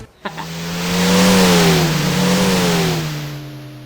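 Race car engine revving sound effect, a sharp start followed by a loud rising and falling wail that swells, dips and climbs again before fading, close and alone.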